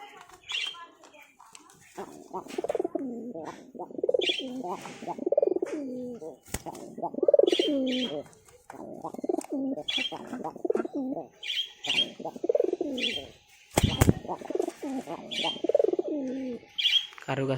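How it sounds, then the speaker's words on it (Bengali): Pet hunting pigeons coo in soft, repeated rolling phrases close by, with a few faint chirps and a brief flutter, while a person talks over them throughout. "শিকারি পায়রা।"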